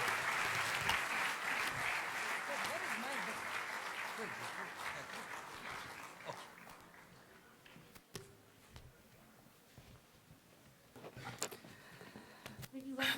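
An audience at an accountants' conference in Dubai breaks into loud, dense applause that fades over several seconds, leaving scattered claps and room noise with a few louder bursts near the end.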